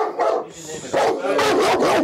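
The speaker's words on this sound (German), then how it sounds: "Nach unserem Eintreffen stehen wir circa 11 Minuten vor dem kläffenden Hund." A dog barks repeatedly and yaps at close range in a high-rise apartment building, loud bursts filling the clip, with people talking in the background.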